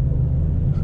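Deep, steady exhaust rumble from a Mustang idling close by, a low throaty drone that holds level throughout with a slight dip near the end.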